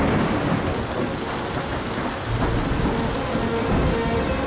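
Heavy rain pours steadily while thunder rumbles low and continuous through a summer storm sweeping inland in South Africa, loud and close, with no voices.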